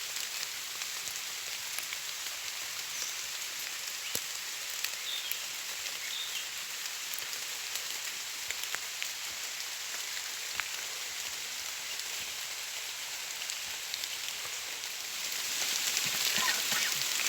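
Steady rain falls around a tent at a house in rural Thailand, a continuous even hiss with scattered drop ticks and no voices, swelling slightly louder near the end.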